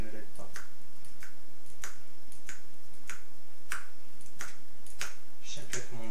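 Repeated sharp finger snaps at a steady, unhurried pace, about one per half second, close and crisp over a quiet low background hum during a hypnosis session.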